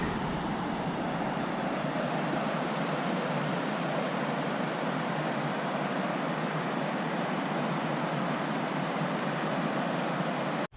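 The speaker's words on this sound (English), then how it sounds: "Here's a cool view of Woods Creek." Woods Creek in Kings Canyon National Park, on the Rae Lakes Loop, rushes past in a loud, steady, unbroken roar of flowing water, with no voices.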